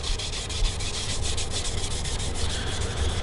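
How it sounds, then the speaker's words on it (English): Sandpaper rubs rhythmically over a stained wooden guitar top with thick coats of stain, fast back-and-forth strokes close and steady with no talking. "we're gonna sand a majority of it off"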